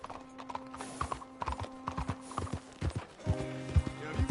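Steady clip-clop of horse hooves trotting close by in the video game Red Dead Redemption 2, with mechanical clanks and a brief whinny-like tone near the end.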